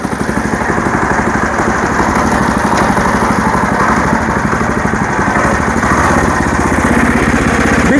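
A motoblok walk-behind tractor engine runs steadily at a constant idle-like chug, close and even throughout, with no voices over it.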